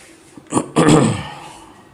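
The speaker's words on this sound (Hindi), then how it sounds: "इसे मैं रब कर देता हूं।" Writing is rubbed off a classroom board in two quick scrubbing swipes, the second longer and louder, then a fade to near silence.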